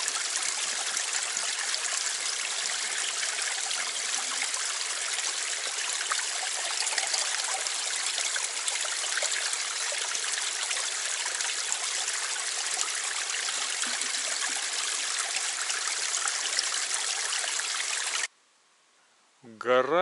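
A clear mountain stream in the Carpathians rushes and babbles steadily and close, a continuous bright wash of flowing water that cuts off abruptly near the end.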